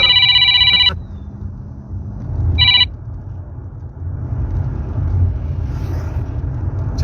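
A telephone rings in two bursts, a long electronic trill followed by a shorter one, loud and close, over a low rumbling background with no talk.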